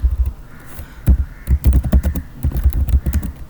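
Rapid keystrokes on a computer keyboard, irregular bursts of close, crisp clicks with short pauses between them.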